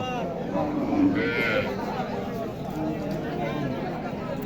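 At a cattle market where a cow is sold along with her calf, livestock moo and low bovine calls rise among busy crowd chatter and people talking nearby.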